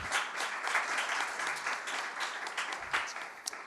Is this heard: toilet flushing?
no